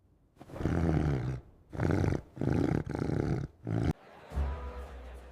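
A lion roars close and loud in a series of five heavy, rasping bursts separated by short silences, followed by a quieter low grunt at the end.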